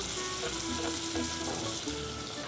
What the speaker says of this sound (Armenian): Միսը սկզբից տապակել